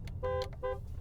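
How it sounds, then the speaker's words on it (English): The horn of a custom BMW with a 13B rotary engine gives two short toots in quick succession, heard from inside the car at moderate volume. "We've got a horn."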